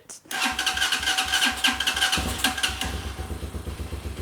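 A Hawk 250 motorcycle engine cranks briefly, catches and fires up, then settles into a loud, close, steady idle with a rapid rhythmic thump.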